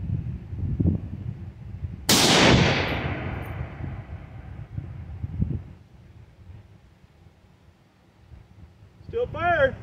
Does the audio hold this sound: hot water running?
no